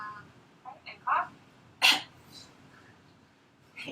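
A single short cough sounds near the middle, close by, during a physical examination, between quiet bits of mouth noise and a brief vocal 'ah'.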